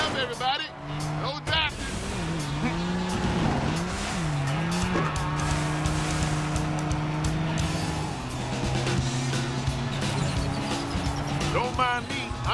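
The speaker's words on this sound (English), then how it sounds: "I'm just drifting through." A car drifting in the Cars 3: Driven to Win racing video game, with sustained tire squeal over a loud, steady engine drone, and voices talking over the game sounds throughout.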